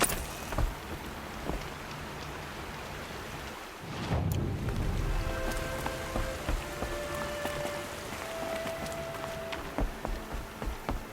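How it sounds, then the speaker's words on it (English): Rain falls in the video game Horizon Zero Dawn, a soft steady patter with a louder rushing swell midway, accompanied by faint tonal game sounds and no speech. "Rain's slowing."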